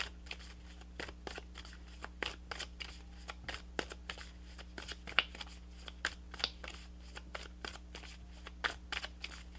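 Moonology oracle cards shuffled by hand, a steady run of soft riffling snaps and slaps close up, repeating irregularly against a low background hum with no talking.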